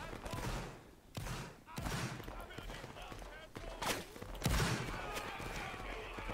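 Musket volleys from a line of soldiers firing at will in a Napoleonic-era battle game, with repeated irregular bursts of gunfire and ragged clusters of shots amid crowded battle noise, while players talk over it.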